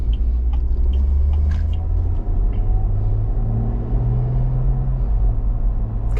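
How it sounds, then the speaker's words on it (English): The inline-six engine of a 2024 Ineos Grenadier drones in a low, steady rumble from inside the cabin while driving, loud and continuous with slight shifts in pitch and no talking. "that inline 6 just sounds really good"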